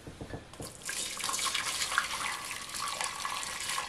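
A couple of brief clinks, then hot water gushes steadily from a tap into a pot, about two litres, a loud, continuous splashing rush close by.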